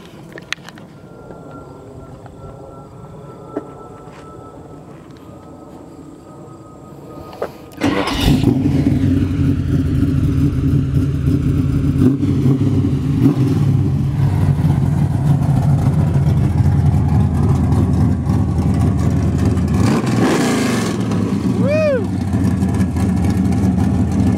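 A 1970 Chevrolet Nova SS resto-mod V8 cranks briefly and fires up, settling into a loud, steady, rumbling idle with a short rev swelling near the end, close by after a quiet indoor lead-in.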